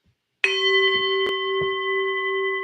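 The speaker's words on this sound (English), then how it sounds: "Ring the bell!" A single bell is struck sharply once and left to ring, its bright clear tone sustaining evenly at close range in a quiet room, with faint knocks under the long decay.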